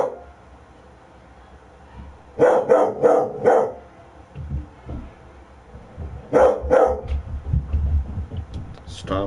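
A small dog, Newt, barking agitatedly close by in a home, two rapid bursts of several sharp barks separated by quieter moments, with a person talking between and under them.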